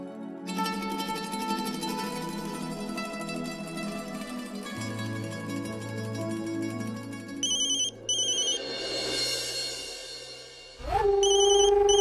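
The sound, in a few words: telephone ringing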